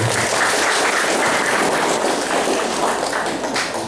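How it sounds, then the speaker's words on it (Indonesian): An audience at a regional government launch of a mangrove crab farming program breaks into applause, a dense, steady clatter of many hands that fades slightly at the end, with no voices over it. "Tepuk tangan."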